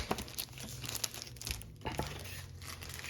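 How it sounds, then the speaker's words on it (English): A greeting card is slid out of a paper envelope, with close paper crinkling and rustling and a few sharper scraping bursts throughout over a low background hum. "So you slide the card out."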